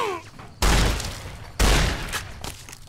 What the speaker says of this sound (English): I'm getting shot, that's why I'm like, oh, jeez, it's jackals